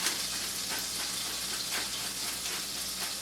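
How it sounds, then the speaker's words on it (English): Butter sizzles steadily in a hot pot, a constant crackling hiss with no talking. "You can hear the butter sizzling."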